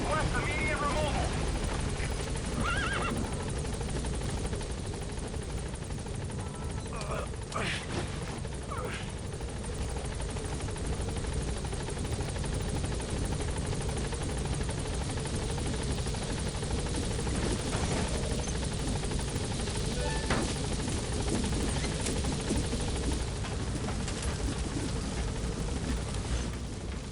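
A helicopter in the video game Metal Gear Solid 5 thrums steadily throughout, its rotor drone continuous and fairly close, with radio-style voices talking over it.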